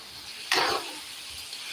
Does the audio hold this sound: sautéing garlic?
yes